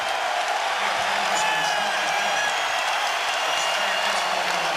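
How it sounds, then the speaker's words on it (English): A basketball arena crowd roars and cheers for Patrick Ewing at a New York NBA game, a sustained, dense wall of cheering and applause with no break. "the crowd standing and cheering for Patrick Ewing"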